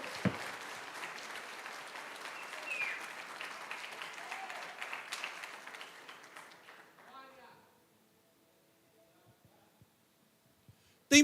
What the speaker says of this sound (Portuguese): Se for para aplaudir, aplaude bem forte